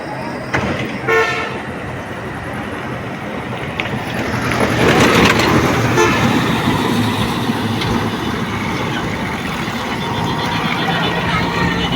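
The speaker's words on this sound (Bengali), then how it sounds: "এই রাস্তা দিয়ে কিন্তু অনেক প্রচুর গাড়ি যায়" Traffic on a busy road toward Faridpur rumbles past in a loud, steady wash, with a horn tooting early and heavier vehicles swelling through midway.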